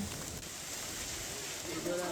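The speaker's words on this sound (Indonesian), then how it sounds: "Jadi kok es batunya juga lumayan berisik ya, karena timpang atap gitu" Hailstones fall on a roof during a hailstorm in Tangerang, making a dense, continuous hiss of rattling impacts like heavy rain, steady and fairly loud throughout.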